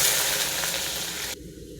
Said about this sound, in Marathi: आता आपण इथे बटाटे वाफवून घेऊ.